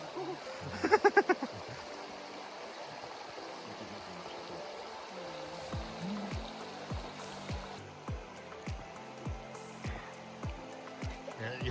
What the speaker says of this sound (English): There were a few stream crossings to tackle before we started uphill.